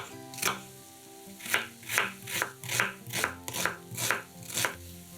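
A knife dices an onion into cubes on a board. There are about nine close, evenly spaced chops after a short pause at the start, with faint music behind and no speech.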